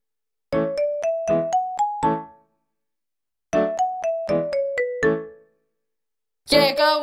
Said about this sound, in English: The clock struck four.